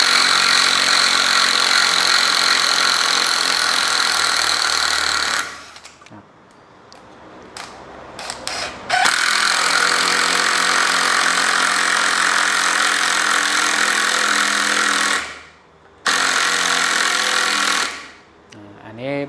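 Makita TD110DWYE cordless impact driver driving a screw, a loud continuous buzzing hammer rattle running in long bursts with brief pauses between, close up.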